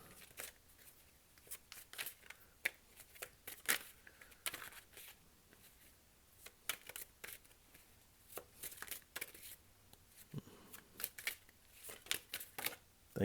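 Tarot cards are shuffled by hand in rapid, papery bursts of flicking and riffling that come in clustered flurries with brief pauses between them. The sound is soft and close, with no voices.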